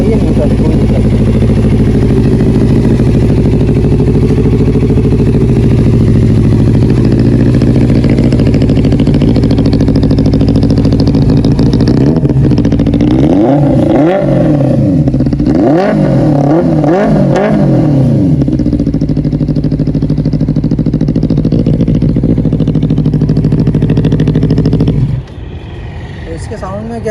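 A Benelli 600i motorcycle fitted with an Excel 55 exhaust idles loudly and steadily, then revs sharply in several rising and falling bursts midway through before settling back to a heavy idle.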